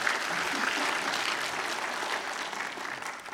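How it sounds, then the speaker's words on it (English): Steady applause from a fan audience at a comic convention panel, a dense wash of clapping heard at moderate distance, tapering slightly toward the end. "Give her a round of applause."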